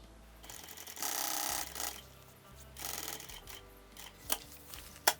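Sewing machine stitching along the bottom of a fabric zippered tote bag, running in several bursts of steady mechanical whirring that stop and start, with a couple of sharp clicks near the end.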